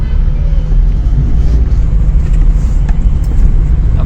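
A car drives into a busy workshop to be parked, giving a steady, close low rumble of engine and road noise that carries on throughout without pause or speech.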